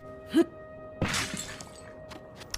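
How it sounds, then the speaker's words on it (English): Clay pots smash in the video game Zelda: Tears of the Kingdom. A short game chime is followed by a sharp, bright shattering crash whose scattered debris rattles fade out over a low, steady musical hum. "This is also true for Tears of the Kingdom, especially with regards to smashing pots."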